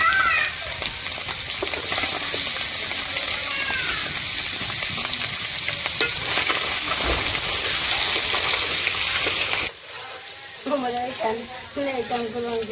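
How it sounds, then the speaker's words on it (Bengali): Onion and egg frying together in a pan in a simple village kitchen: a loud, steady sizzle runs for about ten seconds, then cuts off as a voice briefly speaks. "ডিমের সাথে আমি পেঁয়াজটা দিয়ে ভেজে নিলাম"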